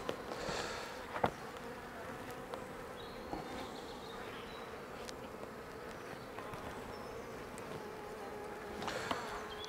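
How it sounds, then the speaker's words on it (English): Honeybees hum softly and continuously around a hive as a nucleus colony is moved into it, a low even drone with occasional individual buzzes passing nearby. "because the bees are so busy at the moment"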